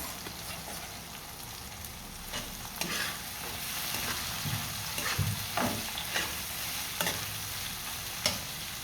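Prawns sizzle and fry in a pan with onion for a spinach and egg dish, a steady crackling bed broken by intermittent scraping stirs, close and moderately loud with no talk.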